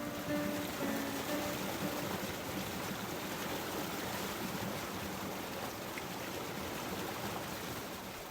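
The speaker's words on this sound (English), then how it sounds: "Here's some water flowing outside." Water flows steadily outside a fish hatchery in Alaska, a continuous broadband rush like a stream or running outflow, moderately loud and unbroken, with no voices.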